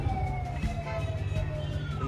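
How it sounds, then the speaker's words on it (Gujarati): An ambulance siren wails through traffic at a Becharaji roadside, its steady tones rising and falling over continuous engine and street noise, fairly loud and close with no one speaking. "એમ્બ્યુલન્સ આવી છે"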